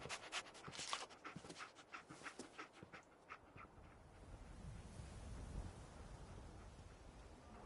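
A dog in the Fallout 4 video game pants in quick rhythmic breaths, close and fairly quiet, fading out halfway as a low background hum takes over.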